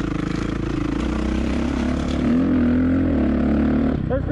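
Motorcycle ridden on a track, filmed on a GoPro Hero 7 or Hero 6: an engine drone fills the whole span with steady pitch, then swells in pitch and loudness midway, heard close with wind noise.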